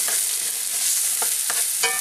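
Onions sweating in a pan, a steady soft sizzle throughout with a few brief stirring scrapes near the end, close and alone.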